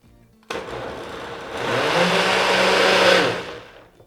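A blender whirs on abruptly, beating gluten-free, lactose-free apple cake batter, a loud steady motor drone that rises in pitch and strain midway before winding down, close and alone.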